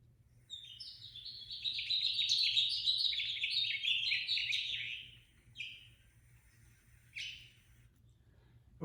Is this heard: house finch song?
yes